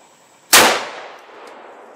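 A single sharp, loud 35 Whelen rifle shot with a 180-grain bullet fired over a chronograph, booming then trailing off into a long fading echo outdoors.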